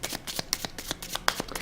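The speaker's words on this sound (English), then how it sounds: "shuffling them as well, and placing them on top of the yellow bordered adventure cards" Adventure cards for the Uncharted board game being shuffled by hand, a quick series of crisp papery riffles and snaps, close and fairly quiet with no voices.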